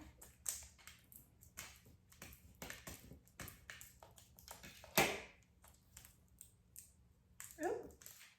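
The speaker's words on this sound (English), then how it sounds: "let me cut out a little piece" Scissors snip a small piece of reused strong transfer tape for a DIY acrylic sign, a string of quiet, close, irregular crisp cuts and crinkles with a couple of louder rustles.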